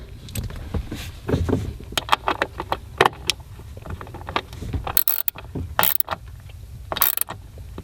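A bolt on a nitrous kit is tightened on a 2015 Corvette, close metallic clicks and ratcheting knocks in an irregular rhythm, with a few sharp louder clanks near the end.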